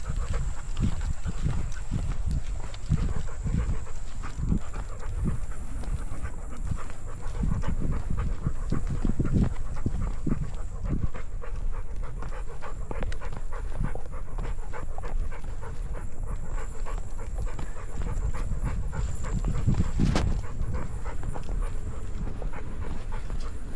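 A dog pants steadily and close by on a relaxed walk, a continuous rhythmic breathing over faint outdoor background noise.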